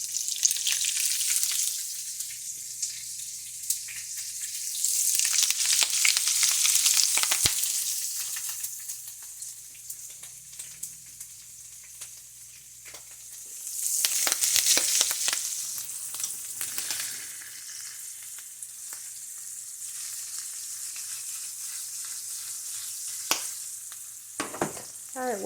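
Mushrooms fry and sizzle steadily in a pan for a home-cooked amber jelly roll mushroom pizza, with louder bursts of stirring and sputtering rising and falling; no one speaks.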